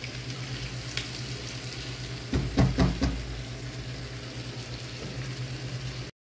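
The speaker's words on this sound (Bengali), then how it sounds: "এখন পেঁয়াজটা এবং কাঁচামরিচটা দিয়েছি, এটাও আমি বাদামি করে ভেজে মাছের উপরে দিয়ে নিব" Steady sizzling of onions and green chilies frying in hot oil, close and continuous, with a few clinks of a utensil stirring partway through.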